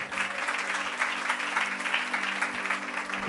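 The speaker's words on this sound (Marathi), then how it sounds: "जरा जोरदार टाळ्या प्रभूसाठी" A room full of people at a religious sermon clapping steadily and loudly, a dense, even burst of applause lasting a few seconds.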